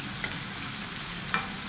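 Potato fingers deep-fry in a pan of oil, giving a steady soft bubbling sizzle broken by a few sharp crackles and pops, close by and with no voices.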